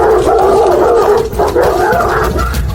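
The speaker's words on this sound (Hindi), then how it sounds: "पीछे के आंगन में जा उन तिब्बती मास्टिफों को बाहर निकाल।" Tibetan mastiffs giving loud, deep barks and howl-like calls in a continuous close run, the sound swelling and dipping slightly throughout.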